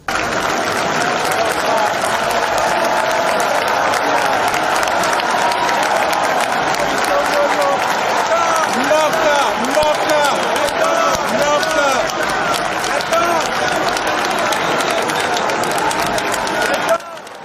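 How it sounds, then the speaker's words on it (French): A packed hall breaks into thunderous, sustained applause as the supreme magistrate enters a ceremony for newly recruited magistrates. Dense clapping runs unbroken for over fifteen seconds before dropping off abruptly. "dont l'entrée dans la salle a provoqué un tonnerre d'applaudissements"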